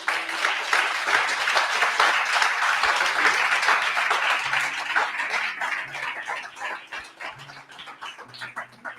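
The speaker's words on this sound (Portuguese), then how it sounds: "dê um aplauso a Jesus" Church congregation applauding, a dense, steady wash of clapping that holds for several seconds and then thins and tapers off, with a few faint voices underneath.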